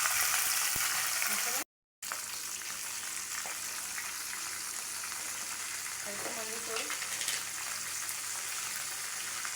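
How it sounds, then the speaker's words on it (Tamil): Cumin, fenugreek, curry leaves and green chillies crackle and sputter in hot oil for temple-style tamarind rice, a steady close sizzle with brief popping bursts, interrupted by a short gap of silence. "சீரகம் வெந்தயம் வெந்தயமெல்லாம் வறுத்து நான் கொட்டி கருவேப்பிலையும் பச்சை மிளகாய் தள்ளி நின்றுக்கோங்க"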